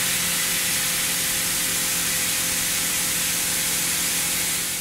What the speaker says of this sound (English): the Big Plus HMC holder is loaded into the spindle to mill the second slot